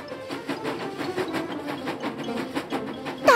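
A steady rhythmic chugging of a cartoon steam locomotive getting underway, even pulses repeating quickly, with a short bright tone at the very end.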